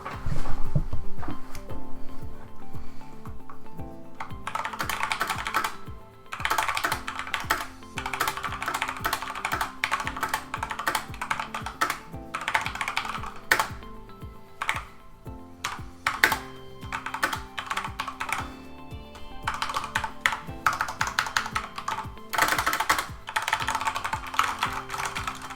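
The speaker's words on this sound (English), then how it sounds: "We just sit down and do a quick typing test." Typing on a Corsair K95 RGB Platinum mechanical keyboard, a steady close clatter of key presses in quick bursts and runs with brief pauses, continuing for about twenty-five seconds.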